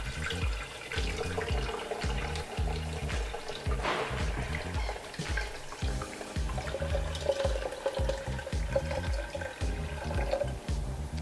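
Water running steadily into a Prestige 1.7 liter electric kettle, a continuous splashing pour lasting several seconds, fairly quiet, with no speech.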